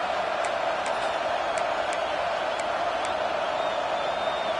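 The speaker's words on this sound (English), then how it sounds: "how nice is it to have the home crowd going absolutely bananas" A home crowd at a Tigers football game roars steadily, a continuous distant wall of noise with faint sharp ticks popping through now and then.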